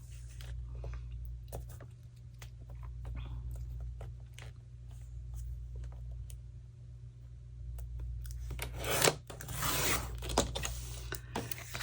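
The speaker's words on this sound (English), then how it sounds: "I'm going to trim this just a hair right here." Paper is trimmed for a travel envelope journal, with small scattered clicks and rustles, then a louder burst of cutting and paper handling close by toward the end.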